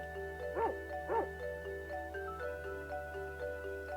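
Angelo the dog whimpers in an RPG Maker game, two short whining yelps near the start followed by fainter, lighter whines over steady background game music.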